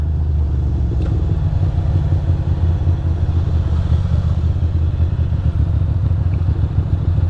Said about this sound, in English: Why is this bike so smooth?